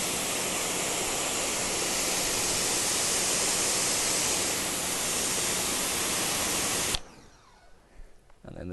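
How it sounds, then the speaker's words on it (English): A pressure washer nozzle hisses with a loud, steady spray for several seconds, then cuts off abruptly, leaving quieter spatter and dripping. "It's funny how it comes out of the pressure washer like that"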